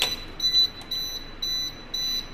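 After a trip, the buzzer on a motor control centre panel emits piercing, high-pitched beeps in a steady repeating pattern, each lasting about a third of a second, clear and close against quiet room noise.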